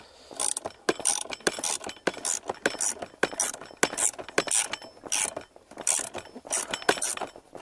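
A ratcheting spring compressor is cranked down on a shock absorber coil spring, giving rapid bursts of close metallic clicks in repeated strokes with brief pauses between them.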